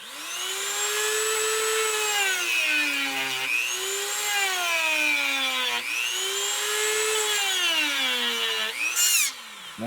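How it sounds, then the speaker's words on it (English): A small Dremel rotary tool whirs at high speed, its whine repeatedly sagging and recovering under load as a sanding drum cuts a port on a Kirst converter, ending with a short scraping burst. "you can go to the Dremel sanding drum"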